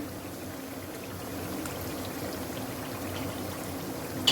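Cream being poured into a white chicken karahi in a pan, a soft steady pouring stream close by with no talk, ending in a faint clink.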